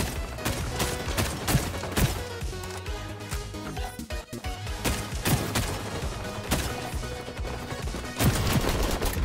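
Gunfire in the online shooter XDefiant, with dense bursts of sharp shots, rapid automatic fire and single cracks repeating throughout at moderate loudness under game effects.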